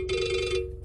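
A telephone rings once in a steady electronic burst that stops short, followed by a brief clatter, indoors in a quiet room.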